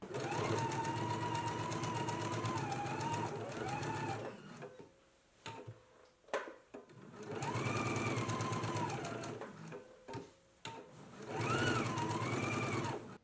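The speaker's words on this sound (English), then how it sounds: "So let's go ahead and do the stitch now, following along the sides and lower edge of the pocket." A sewing machine stitches the sides and lower edge of a dress pocket at a 5/8 inch seam allowance, whirring steadily in three distinct runs separated by brief quiet gaps filled with small handling clicks.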